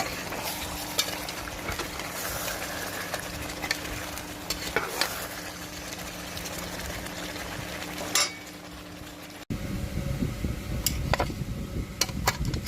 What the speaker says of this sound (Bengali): এখন আমি ভালো করে নেড়ে আবারও সবগুলো একসাথে কষিয়ে নেব।